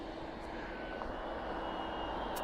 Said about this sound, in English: as that 777 powers down, and as Stu Bear powers down for the night